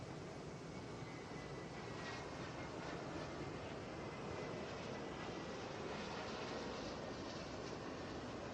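Boeing 717 airliner on Flight 2320 from Charlotte touching down at Atlanta, a steady, faint, distant broadband roar of engine and rolling noise that holds even throughout.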